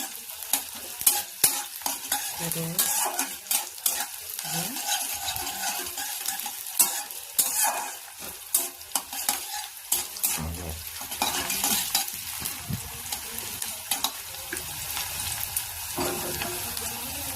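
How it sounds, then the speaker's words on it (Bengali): Potatoes and pointed gourd fry in a pan and are stirred with a utensil, giving close scraping and clinking strokes over a continuous sizzle, with no talking. "নাড়াচাড়া করবো"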